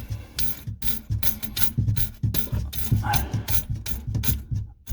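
Faucet mounting screws being tightened under a kitchen sink during a faucet install: rapid, continuous ratcheting clicks in quick rhythmic bursts, close and fairly loud, with no speech.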